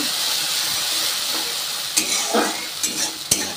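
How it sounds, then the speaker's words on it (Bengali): Cumin, dry red chilli and bay leaf tempering spit and sizzle in hot oil in a wok, a steady close hiss with a few louder stirring scrapes and crackles near the end. "আমার জিরেটা এটা দিয়ে দিয়েছি কড়াইতে। এবার আমি এই মশলার মধ্যে দিয়ে দেবো, এই ফোড়নে দিয়ে দিলাম"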